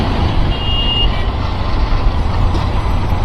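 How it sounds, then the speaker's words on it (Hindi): Mumbai road traffic on a working day rumbles loudly and steadily with trucks close by, and a high reversing beep sounds briefly over the dense engine noise. "तो ये मुंबई का ट्रैफिक आज आपको पता चल जाएगा"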